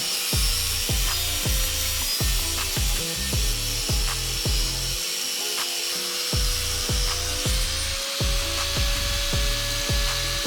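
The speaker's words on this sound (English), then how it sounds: "I resisted the urge to curl up into a ball away from the very loud power tool, and grinded my welds like there was no tomorrow." A very loud power tool grinds metal welds on a homemade bath toy, its harsh whirring drone broken by repeated rhythmic pulses and short pauses as the tool bites and lifts, with no talk.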